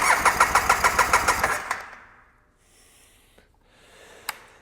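An ATV engine cranks in a rapid rhythmic chug for about a second and a half, catches briefly, then falls quiet, with a couple of small clicks after; close and loud.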